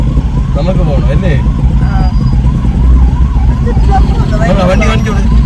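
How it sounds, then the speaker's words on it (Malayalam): An ambulance siren on the road wails in rising and falling sweeps close by, mixed with steady traffic and engine noise while people talk over it throughout. "നമ്മള് അതുകൊണ്ട് ആംബുലൻസ് ബാക്കി പിടിച്ച് നമ്മള് പോവാണ്"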